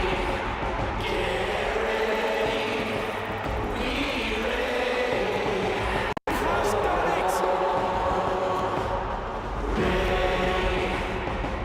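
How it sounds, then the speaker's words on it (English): A large crowd roars and cheers loudly and continuously at a sports event, a dense wall of voices with brief swells, cut by one abrupt dropout midway. "Crowd goes absolutely emphatic."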